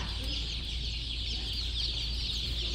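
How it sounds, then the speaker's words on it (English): A dense chorus of baby chicks in boxes inside a store, peeping continuously, high and shrill, with a steady indoor hum underneath. "We got boxes of chicks in here."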